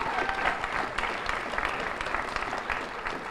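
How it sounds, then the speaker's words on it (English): Audience applause at a Transylvania University partnership announcement, a steady, dense patter of many hands clapping throughout without a break. "Yes, you can clap for that."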